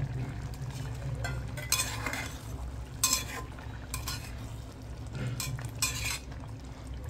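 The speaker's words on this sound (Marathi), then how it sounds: "आता याच्यामध्ये आपण बटाटे पण टाकून घेऊयात आणि त्याला बऱ्यापैकी जरा आता मिक्स करून घेऊया।" Potatoes being stirred into an egg masala in a pan, giving soft scraping and clinking spoon strokes over a faint background sizzle, close but fairly quiet, with no voices.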